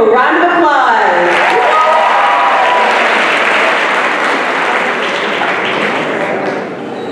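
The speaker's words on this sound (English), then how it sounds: "let's give him a round of applause" Audience applause at a global assembly gathering, loud and sustained crowd clapping that swells after a brief sung or spoken lead-in, then holds steady before tapering slightly at the end.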